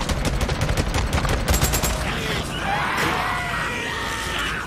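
Rapid automatic gunfire rattles in the video game Days Gone, a fast close burst of shots that gives way to yelling and screeching.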